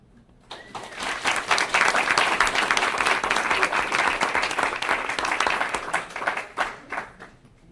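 A school board meeting audience gives a warm round of applause for the district staff, many hands clapping densely and steadily for several seconds before tapering off, with brief voices mixed in.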